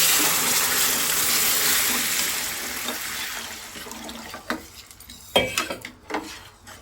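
Hot water is poured into roasted semolina (sooji) in a pan for halwa, giving a loud, steady rushing sizzle for several seconds that fades into a few sharp clinks and stirring clatters.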